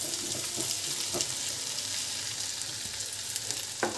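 Onion, green chili, crushed ginger and garlic frying in hot oil for crispy momo filling, a loud continuous sizzle with light stirring scrapes, close and without speech.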